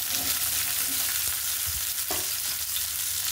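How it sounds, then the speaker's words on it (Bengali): Garlic frying in hot oil until crisp, giving a steady close hiss of sizzling with a few faint stirring scrapes and no voices. "এবার কিছু রসুন দিয়ে দিব। রসুনের বেরেস্তাটা করে নিব।"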